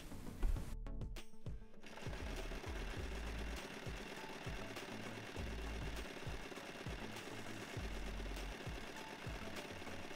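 Sewing machine hemming around a men's shirt being upcycled into a summery top, a steady rapid mechanical stitching chatter running continuously at close range, with a brief shift in rhythm near the start.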